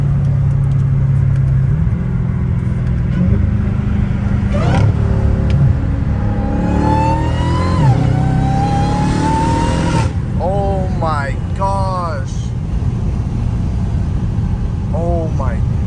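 A Dodge Hellcat Redeye engine revs and accelerates loudly through rising and falling gear pulls, near and dominant, while voices talk over it.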